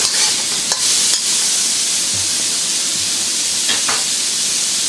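Prawns sizzle and hiss in a hot wok as they are stir fried with a pinch of salt, under steady bright spitting and a few sharp scrapes and clatters of the utensil.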